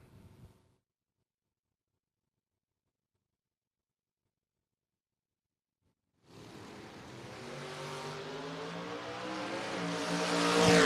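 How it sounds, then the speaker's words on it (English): A dragster buggy and a 1969 Camaro launch at a spring drag racing event. After a brief noise and a long silence, a loud engine roar erupts and keeps climbing in pitch and volume. "Good, clean drag race."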